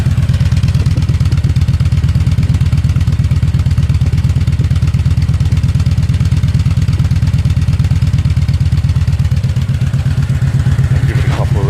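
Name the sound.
Kawasaki Vulcan motorcycle idling with modified exhaust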